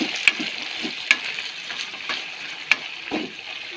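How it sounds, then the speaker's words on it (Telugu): Washed fenugreek leaves with green chilli pieces sizzle and crackle in hot oil for chutney, with a steady frying hiss and occasional sharp ticks as a spatula stirs the pan. "దీన్ని ఇప్పుడు వేయించాలి"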